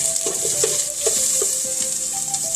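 Garlic and ginger sizzle in a hot pan as the base for a Filipino mussel soup, with a steady bright frying hiss and a few soft stirring knocks, close and with no talking.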